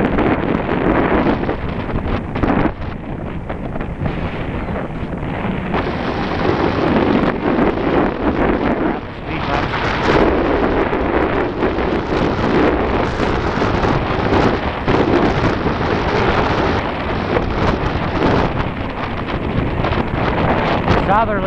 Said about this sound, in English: Southerly wind at 17 clicks, they say.